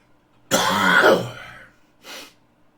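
A single harsh, throaty cough close up, followed by a short breathy exhale or smaller cough, then quiet.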